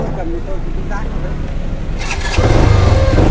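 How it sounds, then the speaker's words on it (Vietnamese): Used motorbike at a second-hand motorcycle shop starting up, its engine catching and settling into a steady, louder idle under ongoing chatter from nearby people. "trời ơi hai bạn ba máy nổ rồi đấy này"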